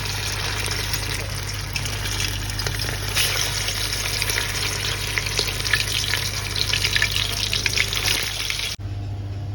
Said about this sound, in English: now it's time for me to put my fish balls in the fryer